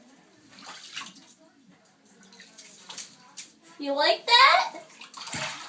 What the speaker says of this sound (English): I'm turning the water on